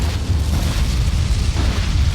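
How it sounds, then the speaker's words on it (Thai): Loud, dense bursts of video game gunfire blend with booming low rumbles and carry on without a break for the whole stretch. "มันยิงปืนมันยิงปืน"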